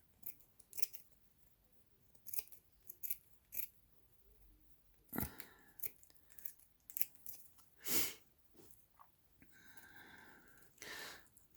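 Scissors snip and cut around paper pages of a craft journal, close and fairly quiet, in short irregular bursts with brief pauses and a few louder crisp cuts, plus faint rustling of paper.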